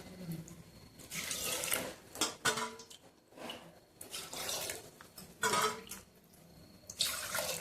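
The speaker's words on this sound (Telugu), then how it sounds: "6 గ్లాసులు నీళ్ళు పోస్తున్నాను" Water poured from a glass into a cooking pot, several glassfuls for rice and lentils, in splashing bursts with brief pauses between pours and light clinks of the pot and utensils in a kitchen.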